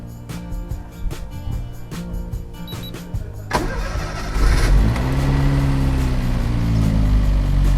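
A Daihatsu Mira manual-transmission pickup truck cranks briefly and fires up on the first try, then settles into a steady, loud idle close by after some earlier clicks and rustling.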